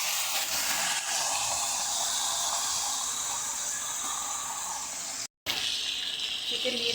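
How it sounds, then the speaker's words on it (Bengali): Chicken drops into hot oil with onions in a pan, giving a steady, close hiss of sizzling that runs almost unbroken, with one brief dropout near the end. "এরপরে তেলে দিয়ে দেবো এখন চিকেন। এই আমি চিকেন দিচ্ছি।"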